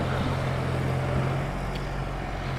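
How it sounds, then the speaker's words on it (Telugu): A tractor ploughing a paddy field drones steadily with a low, continuous engine hum, close and unbroken, with no talking. "ట్రాక్టర్ అయితే పొలం దుంతుంది"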